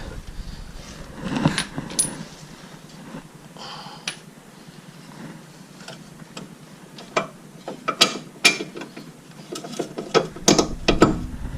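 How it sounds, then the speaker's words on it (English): Suspension bolts being removed with a ratchet while fitting lowering springs to a BRZ/FRS/GT86, bursts of rapid close clicking and metallic clanks, busier toward the end. "we're gonna take that bolts out"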